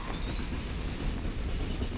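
A running train makes a loud, dense, continuous rumble with rolling wheel noise and a steady rushing wash across the whole span, without any speech.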